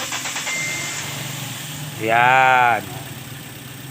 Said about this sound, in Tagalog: pa-start nga nung ating kotse